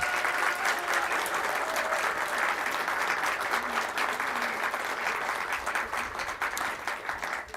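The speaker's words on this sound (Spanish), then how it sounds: "Un aplauso también para ellos." Steady, dense applause from an audience at a public ceremony marking the anniversary of Giordano Bruno's death, sustained throughout and beginning to thin only near the end.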